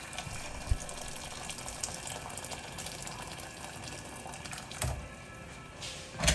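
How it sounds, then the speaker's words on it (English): Hot water streams steadily into a pan, a continuous gushing pour with a couple of louder splashes near the end. "I'm gonna pour some boiling hot water in the pan"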